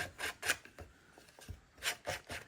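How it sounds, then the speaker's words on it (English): Sandpaper is rubbed over a wooden base to distress it, making rhythmic, raspy back-and-forth strokes in close bursts with short pauses between them and no talking. "take a little bit of sandpaper, and we're going to distress the base"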